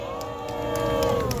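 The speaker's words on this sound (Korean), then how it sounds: "우리 장 박사님께 박수 한번 주세요" A rally crowd cheers and whoops in a steady, close roar of many voices, with a sustained tonal hum running through it for the whole short stretch.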